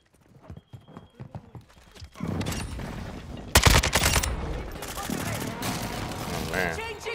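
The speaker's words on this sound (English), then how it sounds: "Strike inbound." A video game airstrike lands with a heavy, booming blast after a few scattered sharp pops, followed by sustained rumbling and crackling gunfire, loud and close, with voices talking over the action.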